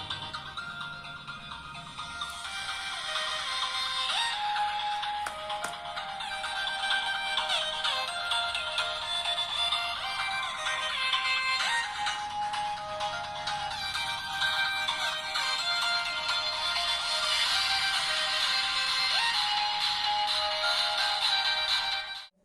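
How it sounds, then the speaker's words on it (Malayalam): Music plays from the small built-in speaker of a DT8 Ultra smartwatch, a continuous bright, somewhat thin melody at moderate volume, running without talk for about twenty seconds before stopping abruptly. "നിങ്ങളിപ്പോൾ കേൾക്കുന്നത് വാച്ചിൽ വരുന്ന ഒരു ശബ്ദമാണ്"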